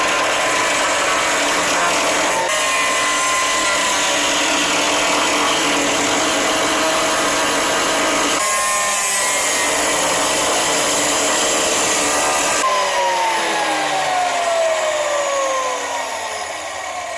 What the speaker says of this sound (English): Fuck, Mike, that's a lot of grinding.